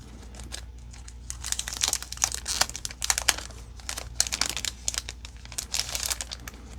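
Crinkling of a trading card pack wrapper handled up close, with irregular bursts of crackly plastic rustle over a steady low background hum.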